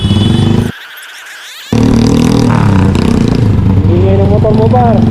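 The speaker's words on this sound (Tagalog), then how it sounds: "Ingay ng motor mo ba?" A delivery rider's motorcycle engine drones steadily through heavy traffic on a busy road, loud and close, broken by a one-second dropout near the start, while someone talks over it.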